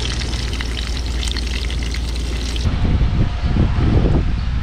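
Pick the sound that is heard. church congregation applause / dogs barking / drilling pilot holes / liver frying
liver frying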